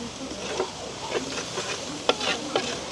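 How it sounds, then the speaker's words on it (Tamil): Onions frying in oil for a chicken roll filling, a soft steady sizzle under clinking scrapes of a spoon stirring the pan, close and unaccompanied by speech. "இப்போ வந்து வெங்காயம் வதங்கினா சரி, இன்னொரு 2 நிமிஷம் அப்படியே வதங்கட்டுங்க எங்களுக்கு"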